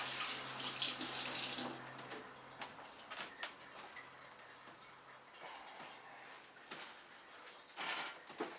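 Hands get a quick rinse under a running kitchen tap while making cheese scones, a close burst of splashing water that stops, followed by quiet ticking and faint handling noises.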